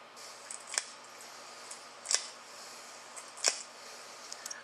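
A bare hand smacked to imitate a nunchuck impact gives three sharp, isolated slaps, evenly spaced about a second and a half apart, against a quiet room.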